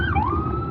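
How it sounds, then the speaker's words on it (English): An ambulance siren wails briefly in the distance, a single rising and falling tone over low background rumble. "Ambulance."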